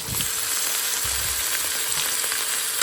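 Chicken feet frying in a hot pan give a continuous close sizzle, with soft crackles and light stirring knocks throughout.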